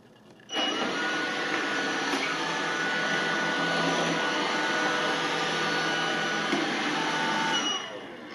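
Robot vacuum cleaner running close by as it turns at a virtual wall, a steady loud whirring hum that starts suddenly, holds for about seven seconds and then fades, with no talking.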